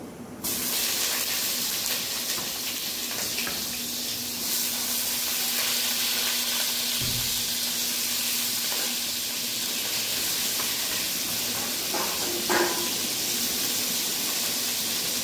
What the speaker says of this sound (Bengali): তেল গরম হয়ে গেছে, এবার পটলগুলো দিয়ে দেবো।